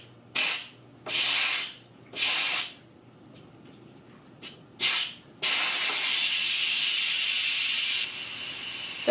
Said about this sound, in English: the trick with the Instant Pot is to not open it until the steam is gone completely